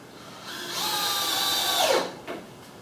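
A power drill driving a screw into pine whirs up to speed, runs briefly, then winds down with a falling pitch, followed by a short final burst.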